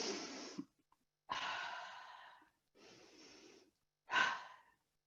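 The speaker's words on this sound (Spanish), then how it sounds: "Si estás respirando y eres consciente de ello" A group of people at a gathering on immigrant women and domestic employment breathe audibly together, four long, loud breaths separated by short silences, with no talking.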